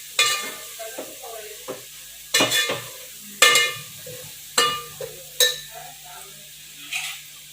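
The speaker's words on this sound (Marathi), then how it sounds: "अशा प्रकारे कांदा चांगला परतू द्यायचा, मगच त्याच्यात मसाले टाकायचे बाकीचे." Onion and spices frying in a pan for chicken biryani, a steady sizzle broken by repeated scraping stir strokes, about seven sharp bursts at uneven intervals, close and fairly loud with no talking.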